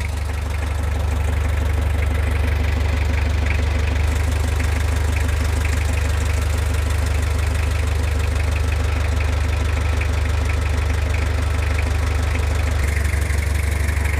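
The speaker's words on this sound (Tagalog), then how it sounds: "patayin natin makina, tapos i-start natin." Car engine idling steadily after a restart with the engine hot, a constant low rumble with a faint knocking texture running evenly throughout, close and loud with no talk.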